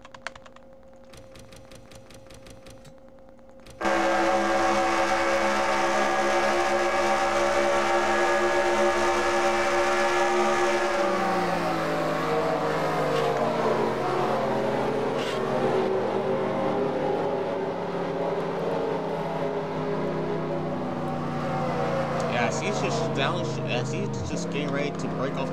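A NASCAR Racing 2003 race car engine roars loud and sustained, its pitch sliding down and then climbing again, after a few seconds of quieter clicking at the start.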